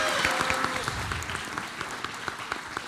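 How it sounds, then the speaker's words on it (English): At a school board of education meeting, an audience applauds band students and their teacher with continuous, fairly close clapping that stays even throughout and has a few sharper individual claps standing out. "one more round of applause if you would"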